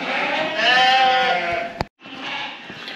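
Ewes and big weaned lambs bleat loudly and continuously on a farm, a dense chorus of overlapping calls close by, with a sharp knock and a brief pause before the flock resumes.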